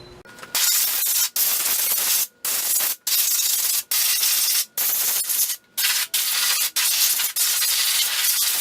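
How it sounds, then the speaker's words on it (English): Compressed air hisses in loud, sustained bursts through cracks around an engine's valve covers to clear debris, with about a dozen blasts separated by short gaps and no talking. "I'm going to blow some air through those cracks to try to dislodge, try to get rid of any debris that's in between"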